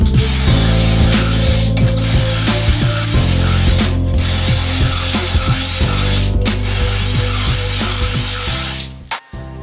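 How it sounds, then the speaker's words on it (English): A power drill boring pocket holes into the ends of 2x4 boards, loud and close with steady whirring runs broken by short pauses and a ratcheting mechanical texture, no voices. "So now I need to put two pocket holes in the end of each of these 2x4s."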